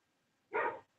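A dog gives a single short bark, close and fairly loud, after a near-silent stretch with no talk.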